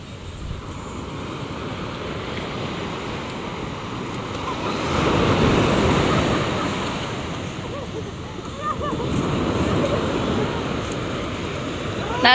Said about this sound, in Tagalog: Lalaki-laki na po ang alon